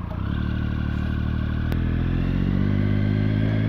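A Triumph Speed Triple 1050 motorcycle engine runs at a steady idle, a deep continuous throb with a rough, lumpy texture, close and loud, with a brief sharp click partway through.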